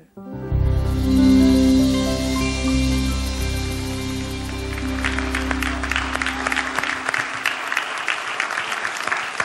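An audience applauds after a singer and his big band perform a song at Telethon 2011. The last sustained notes of the music fade while dense clapping swells up and carries on, loud and steady, from a large crowd.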